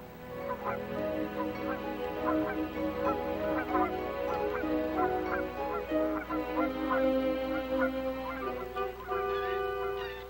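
Canada geese honking in a busy, overlapping chorus, many calls repeating at close range and fairly loud throughout without a break.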